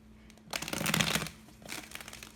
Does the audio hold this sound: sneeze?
no